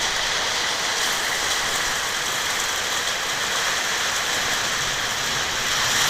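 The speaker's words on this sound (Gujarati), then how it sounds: "વરસાદ ભાઈ ચાલુ થઈ ગયો હે" Steady rain falls in strong wind with a dense, even hiss, continuous and unbroken, with no voices.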